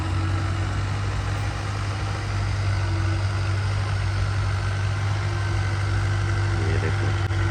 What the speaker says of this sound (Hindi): ट्रैक्टर भी चला हुआ है, वो देखो हल मार रहा है